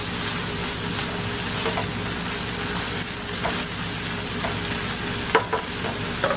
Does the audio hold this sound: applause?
no